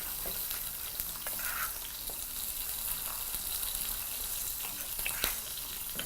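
Salt being stirred into tikka sauce in a hot pan, a soft continuous sizzle with occasional scraping clicks of the spoon, fairly quiet and steady.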